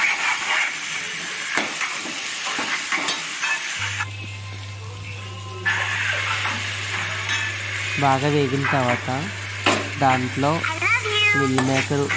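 Egg fries in hot oil with turmeric, chili powder and salt, sizzling and crackling loudly up close and swelling partway through, while a cat meows repeatedly in the foreground.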